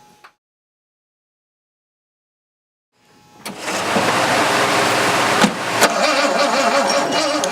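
Jaguar E-type engine cranking over on the starter and trying to catch, a sudden loud, churning grind after a few seconds of silence that keeps going and pulses unevenly without settling into an idle.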